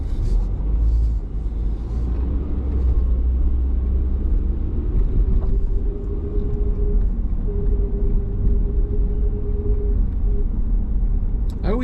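Steady, loud engine and road rumble from a car cruising city streets in Clifton, New Jersey, with a passing vehicle and a brief tonal whine partway through, heard from inside the car.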